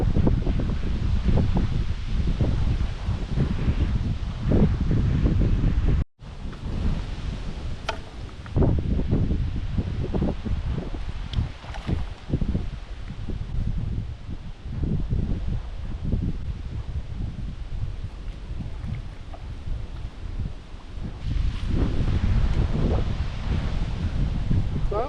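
Wind gusting outdoors on a hike through Bulgaria, rumbling and buffeting close against the microphone with rustling throughout, dropping out briefly once before surging on.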